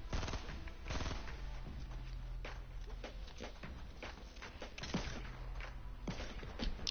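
Gunfire in Fortnite: rapid, clustered shots crackle steadily through the stretch, with a few sharper louder cracks standing out against continuous game noise.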